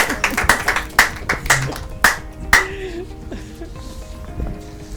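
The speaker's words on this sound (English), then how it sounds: "Clap for him." Children clap at a Children's Day quiz show, a short run of sharp, distinct hand claps, about eight in an uneven rhythm close by, fading into quieter background noise.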